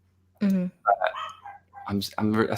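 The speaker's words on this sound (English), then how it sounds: "That barking is really distracting." A dog barks a few times nearby, with short yappy bursts mixed in among voices talking.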